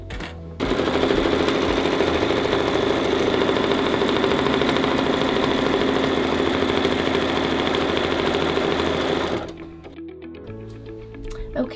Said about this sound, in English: let's go ahead and sew stitch sequence 3